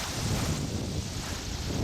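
Wind rushes over a sailing boat under way, a steady, close broadband roar filling the whole stretch with no voices.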